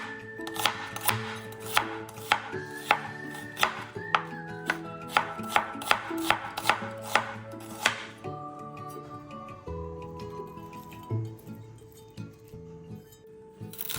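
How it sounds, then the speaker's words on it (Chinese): Half a white onion is sliced into strips with a knife on a cutting board, giving a fast run of crisp, evenly spaced chops up close that slows and softens near the end, with no talking. "白洋葱半个，切丝。"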